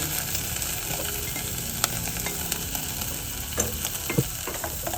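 Chicken pieces frying with onions in a pan for a Turkish chicken soup, a dense continuous sizzle with scattered stirring clicks and scrapes, close and steady, no speech.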